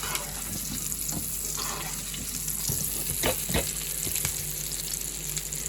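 Salmon fillet crusted with habanero, lime and pistachio sizzles in a cast iron skillet while being basted, a continuous close frying hiss with soft spoon scrapes and splashes of hot fat.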